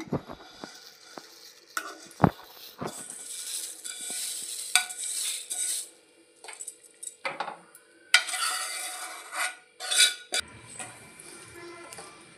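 Vermicelli stirred into boiling milk in a pot, with repeated scraping and clinking of a spoon against the metal pan and a bubbling hiss between strokes, close and fairly loud.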